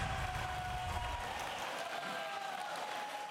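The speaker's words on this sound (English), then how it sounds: "Those are Packer fans cheering on the team to victory." Packers fans cheering for their team in a Wisconsin sports bar, a dense roar of crowd noise and applause with indistinct voices underneath, steady and loud for a few seconds.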